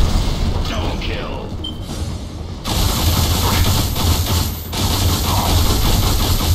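Explosions in the video game Alien Rage, heard as heavy rumbling booms and dense crackling battle noise that fill the whole stretch, with brief breaks in between.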